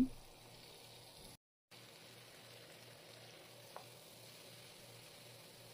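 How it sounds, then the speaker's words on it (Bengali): Sweet pumpkin pieces fry in oil with spices, giving a faint, steady sizzle while being stirred, with one small clink partway through and a momentary dropout. "কুমড়ো দিয়ে এখন আমি মশলার সাথে এগুলোকে মিক্স করে নিচ্ছি সব দিক থেকে।"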